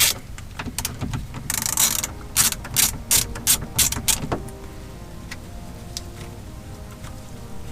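A ratchet wrench loosens 8 mm bolts on a Subaru Outback side mirror. Loud, close bursts of rapid clicking come in quick succession, then a few sparse single clicks follow against a quieter background.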